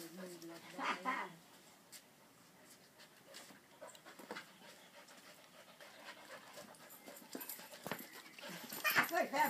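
A Labrador pants and snuffles during a game of fetch, breathing near and fairly quiet, while people talk over it.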